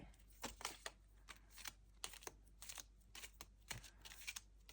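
Soft rapid riffling and snapping of playing cards being shuffled, in bursts of fluttering clicks, faint and close with no talking.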